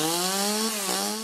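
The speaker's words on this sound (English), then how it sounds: "Hear that? That's a brand new Shindawa chainsaw from Hojo Power Sports and Equipment in Shelby." A brand-new Shindaiwa chainsaw running alone at close range, a steady high-revving two-stroke whine with a brief dip in pitch before it climbs back up.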